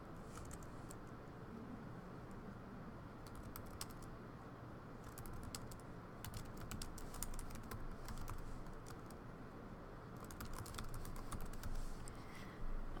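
Faint, distant computer keyboard typing in bursts of rapid clicking keystrokes, separated by pauses, over a steady background hum.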